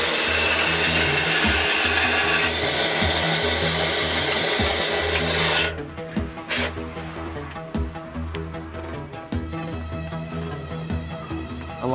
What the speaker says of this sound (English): You actually got to saw a little bit off of that.